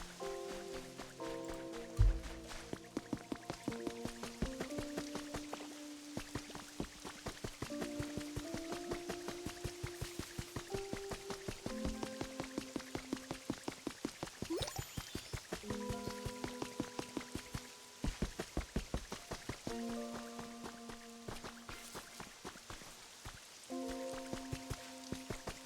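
Rain falls in the Pokemon Pokopia video game as a dense patter of drips and droplets, heard under steady game music with melodic tones and no talking.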